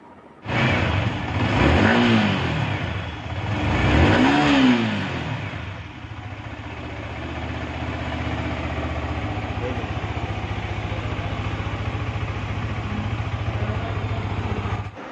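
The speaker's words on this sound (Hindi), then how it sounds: "इस बाइक का एग्जॉस्ट नोट" A 2023 motorcycle's exhaust revs hard twice, rising and falling, then settles into a steady, throbbing idle close by.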